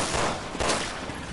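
A short burst of gunfire in Resident Evil 6, a dense rattle of shots followed by a sharper report midway, over about a second and a half with no talk.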